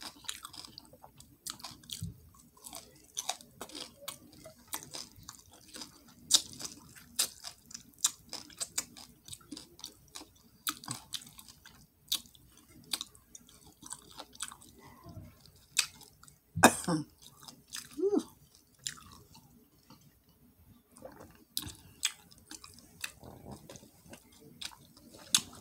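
A cat chewing a crunchy fish tail, with intermittent close crunches and bites scattered across a quiet background, bursts of chewing spaced irregularly throughout.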